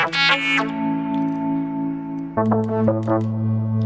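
A distorted, percussive synth patch built in the Dreams game on PS4, with sharp attacks leading into sustained buzzing tones and a second burst of stuttering, echoing hits near the end, loud and alone.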